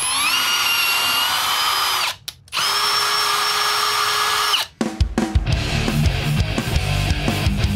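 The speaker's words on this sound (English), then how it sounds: "When you retap it to be a 1032 nut." A power drill drives a tap through a steel nut to recut it to 10-32 thread, whining steadily in two bursts with brief pauses, then giving way to rough grinding and clattering.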